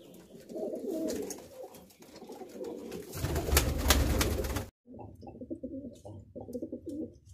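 Lakka pigeons, one with a red body and white tail, coo in repeated close, throaty bursts, with a brief silent gap partway through.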